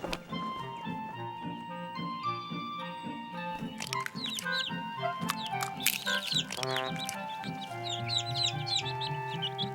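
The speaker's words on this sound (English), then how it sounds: "There were birds," Chirping, twittering birds sound bright and busy over a steady musical bed, several calls overlapping and rising in number toward the end.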